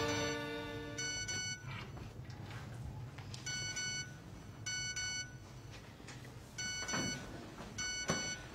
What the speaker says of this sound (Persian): موبایلت خودشو کشت.